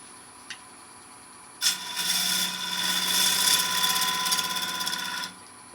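A lathe turns an 8-inch segmented wooden bowl as a gouge cuts it, a sudden loud rasping, chattering cut that lasts about three and a half seconds over a steady motor hum before stopping abruptly.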